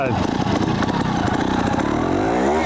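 A trials motorcycle on brand new tyres pulls in third gear, its mid-pitched engine chugging steadily and close by throughout, with a voice talking over the engine noise.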